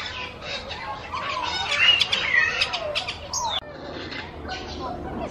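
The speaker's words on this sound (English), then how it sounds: "this is a horned parakeet" A colourful horned parakeet gives repeated shrill, squawky calls and chirps close by amid a noisy zoo or park background, with voices murmuring underneath.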